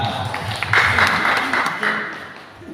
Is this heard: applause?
yes